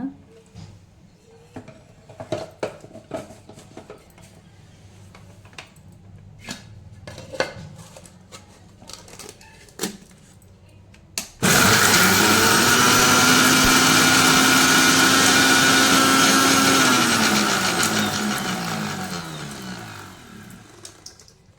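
Dried red chillies for chutney are dropped in with scattered clinks and taps, then a mixer grinder starts with a loud whirring roar that runs steadily for about six seconds before winding down and fading out.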